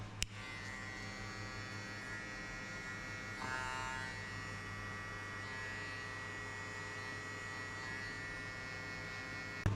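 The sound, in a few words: electric hair clipper cutting a mid skin fade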